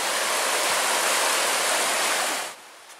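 Mosquito River rushes along in a steady broadband roar of flowing water, loud and close. The sound is continuous and then drops off sharply near the end.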